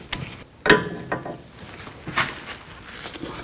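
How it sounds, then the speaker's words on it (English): Metal wrench clicks and clanks while loosening the outer tie rod jam nut with a 15/16 or 24mm wrench on a 2016-20 Kia Sorento, a few sharp close knocks with light ratcheting scrapes between. "Loosen up this jam nut, use a 15/16 wrench or a 24mm wrench."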